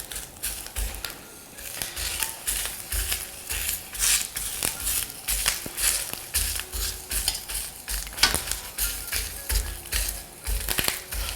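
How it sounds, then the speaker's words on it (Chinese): Screw peppers dry-fry in a hot wok with no oil over medium-low heat, giving a steady crackling sizzle broken by repeated scraping and stirring strokes of a spatula against the metal, close and continuous. "锅烧热以后呢，不要放油，我们先把辣椒给它煸一煸，煎一煎"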